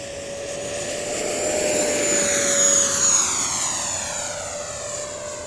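A Freewing F9F-8 Cougar 80mm electric ducted fan model jet passes overhead, its steady whine rising and then fading as it flies by, with no voices.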